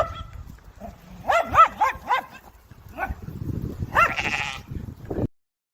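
A sheep in a played recording lets out a loud, close series of bleats that sound oddly like barking, a few harsh yelps in quick succession and then a longer cry, before the sound cuts off abruptly.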